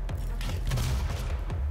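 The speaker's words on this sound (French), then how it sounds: "L'explosion à côté du corps" Explosions and gunfire burst in DOOM on PS4, loud deep booms and rapid shot-like cracks layered over a heavy rumbling low end, dense and continuous through the short stretch.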